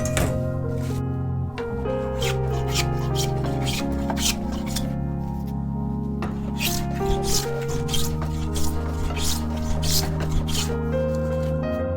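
A hand plane shaves along the edge of a wooden scale-length ruler for a bass guitar build, producing a series of close, rhythmic rasping strokes over a steady background hum.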